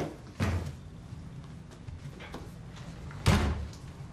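A door sounds faint and somewhat distant in a TV drama scene, with one thump near the start, light handling noises in between, then a louder slam-like thud later.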